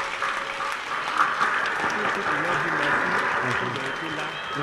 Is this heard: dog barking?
no